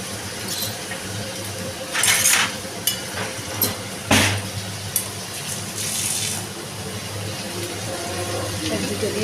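Potatoes and onions frying in a pan, a steady low sizzle with occasional louder crackling bursts and clatter, close by with no talking.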